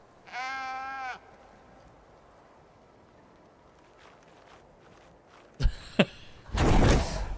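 A single sheep bleats briefly in the video game Mortal Shell 2, then quiet follows before a few soft thuds and a burst of louder noise near the end.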